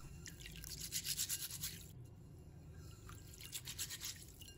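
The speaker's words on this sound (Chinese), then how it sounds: "再倒入清水，把它清洗干净。" Mung beans being rinsed in a bowl of clean water, with soft swishing and trickling bursts that come and go in two short rounds, close and quiet, with no voices.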